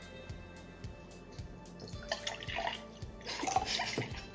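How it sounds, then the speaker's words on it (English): Quiet indoor pouring of grape juice into glasses, with small splashes and dribbles over faint rhythmic background thumps, followed by a louder trickling stream near the end. "I'm gonna pour our glasses"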